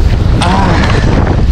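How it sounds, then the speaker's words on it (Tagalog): Strong wind buffeting a small fishing boat out on open water, a loud, continuous roar and rumble that fills the microphone with no clear breaks. "Medyo malakas nga lang ang hangin."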